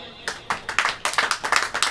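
A church congregation claps hands together in a quick, uneven rhythm of sharp, close claps, with a voice speaking over the clapping.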